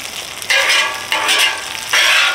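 Burgers sizzle loudly on a flat top griddle, the hiss surging in three waves as the patties are pressed or moved, with no voices.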